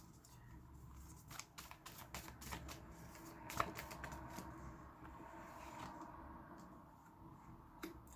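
Tarot cards are shuffled and pulled in quick, faint papery riffles and soft flicks, with scattered snaps and taps close by in a quiet room.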